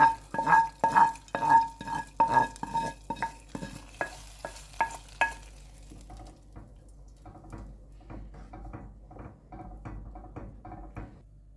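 Hot oil with fried chili flakes and dried mint spooned onto a pot of tomato mahluta soup, a quick run of loud sizzling stirs and clinks at first, then softer scraping taps that fade toward the end.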